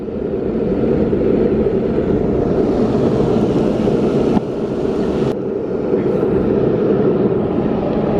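A Yeeplay electric skateboard ridden fast gives a continuous loud rush of wheel rumble and wind buffeting the microphone, steady throughout with a couple of brief knocks.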